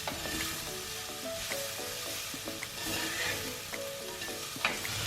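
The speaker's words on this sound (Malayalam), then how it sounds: "കോവയ്ക്ക ഇപ്പം ചെറുതായി ഒന്ന് വഴന്നു തുടങ്ങിയിട്ടുണ്ട്." Chopped ivy gourd sautéing in a pan gives a steady sizzle, with repeated scrapes and clinks of a spatula stirring the pieces, close and alone without talk.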